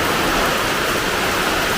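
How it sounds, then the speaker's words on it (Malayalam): Heavy rain pours down steadily on a Kerala home, a dense, continuous hiss filling the whole stretch at close range with no voices heard. "നല്ല മഴ."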